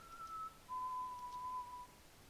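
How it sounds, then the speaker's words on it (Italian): An enemy whistles in Far Cry 3, a thin steady tune of a few sustained notes, clear but fairly quiet against low background hiss. "Questo fischia, ragazzi"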